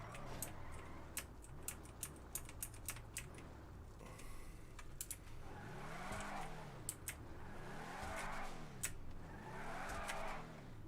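A car engine in GTA revs in repeated rising and falling surges, building to several strong swells toward the end, with scattered sharp ticks and clicks throughout.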